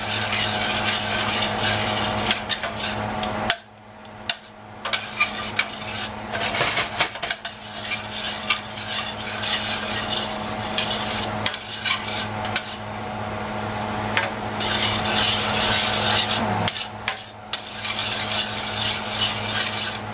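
Butter being stirred into a pan sauce for lamb chops, with continuous close scraping and rubbing of a utensil against the pan and a few short pauses.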